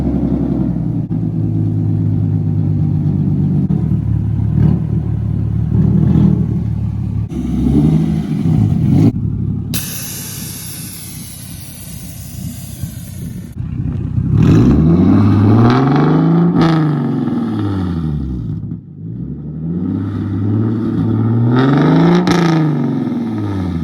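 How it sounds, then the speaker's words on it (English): A Hyundai Genesis Coupe 3.8 V6 fitted with Ark downpipes and an H-pipe idles with a deep exhaust drone, then revs repeatedly: several sharp rises and falls in pitch, loud and close, with no talking. "we'll go ahead and start the car for you guys and give you guys a exhaust clip"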